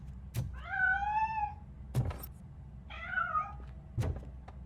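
A cat in the video game Robocop Rogue City gives two clear, drawn-out meows, with a dull thunk before, between and after them against a quiet background.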